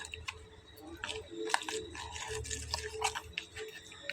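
Cold water is poured into a flour batter, with close, irregular splashing and dripping bursts of liquid.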